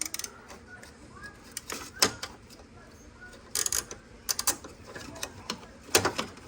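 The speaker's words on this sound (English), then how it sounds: "make sure that you put the wrench on" A wrench clicks and ratchets in short irregular bursts while loosening fittings on a Mercedes ABC tandem pump, close up, with quiet gaps between the bursts.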